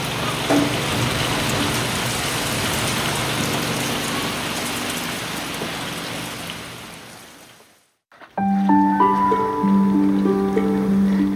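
Heavy rain pours down during Vietnam's rainy season, a loud dense roar of drops on surfaces that fades away toward silence, after which steady tonal music takes over.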